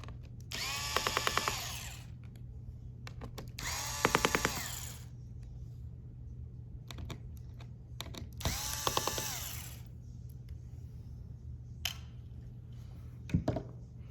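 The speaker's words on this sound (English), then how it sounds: "The next thing we want to do is remove the 3 keyboard screws." A small electric screwdriver backs three keyboard screws out of a Lenovo Yoga 11e Gen 5 laptop, giving three short, buzzy whirring bursts separated by pauses, with faint handling clicks and a steady low hum underneath.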